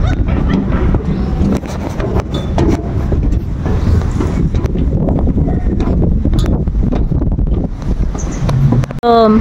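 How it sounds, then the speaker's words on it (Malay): Strong wind buffets the microphone outdoors at the PLTD Apung ship site in Aceh, a loud, continuous roar that lasts throughout with faint voices underneath. "Kuat angin."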